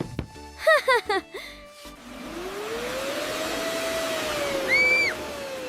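A vacuum cleaner cleaning a sofa on a high spin mode, a steady whirring drone with a slowly rising and falling pitch, preceded by a few short musical tones and voiced sounds.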